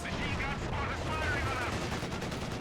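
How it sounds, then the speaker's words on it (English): Machine gun fire in Company of Heroes 2, a 3v3 match on the Essen Steelworks map, sounding as a dense, steady rattle of bursts that carries through the whole stretch alongside other battle noise and a faint voice. "MG opening fire from range"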